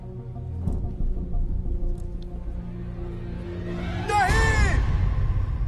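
In a Hindi-dubbed movie scene, a man lets out a loud, drawn-out shout that rises and then falls over about a second and a half, following quieter background noise and a few faint sounds.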